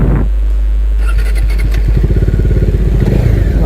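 A Bajaj Dominar 250 BS6 motorcycle runs nearby, its engine thrumming at low speed with a rapid, steady pulse that picks up slightly toward the end.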